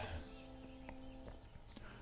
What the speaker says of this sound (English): my horse is there, but I'm going to leave my horse there because a horse is loud